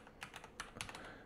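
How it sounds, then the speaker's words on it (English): Quick, light keystrokes on a computer keyboard at a new desk setup, several clicks in an uneven burst, close and fairly quiet with no talking. "I got my keyboard."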